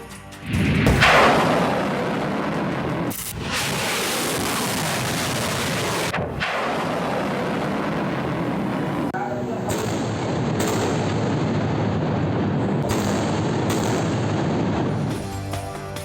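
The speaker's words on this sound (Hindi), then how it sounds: "इस्राएली फ़िज़ाई हमले में पूरी बिल्डिंग धमाके के साथ ज़मीन बोस हो गई" A sudden loud blast as an airstrike brings down a whole building gives way to a long, heavy roar of crumbling debris, with voices faintly underneath.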